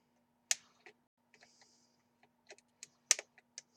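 Snips clip the wire leads of a coil on a Cigreen Lycan RDA vape atomizer, giving a few sharp close-up snaps spaced apart, with faint small handling clicks and metallic taps between them in a quiet room.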